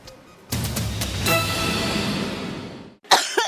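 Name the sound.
coughing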